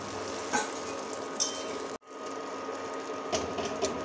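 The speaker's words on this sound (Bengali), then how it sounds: "সব কিছুকে নাড়িয়ে চাড়িয়ে মিশিয়ে নিচ্ছি" Ground spice paste being stirred in a frying pan with small shrimp, steady close sizzle with scraping and clinks of a utensil against the pan, a brief dip in the middle before the stirring resumes.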